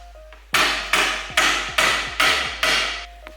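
Six sharp hammer blows land in a steady rhythm while building a cabinet in a camper van, each ringing briefly before the next, loud and close with no talking.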